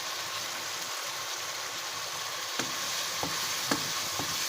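Chicken with green chillies frying over a high flame for a restaurant-style chicken cheese handi, a dense, even sizzle with occasional clicks and scrapes of stirring near the end.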